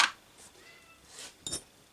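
A cat in a workshop gives a short meow, faint and close, followed by a brief clink of metal parts.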